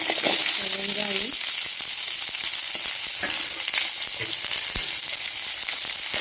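Onion, urad dal, curry leaves and dried red chillies frying in oil in a pan, a steady loud sizzle throughout with faint scraping stirs and a voice speaking briefly over it.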